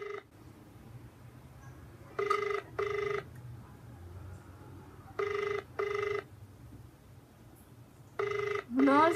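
An outgoing phone call rings during a prank call, paired electronic ring pulses repeating in three clear groups over a quiet line, with soft voices murmuring in the background.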